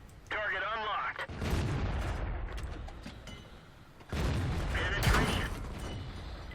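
Tank destroyer cannon shots in World of Tanks, two loud booming blasts with rumbling echo tails, separated by a few seconds, mixed with game radio chatter and mechanical clanks.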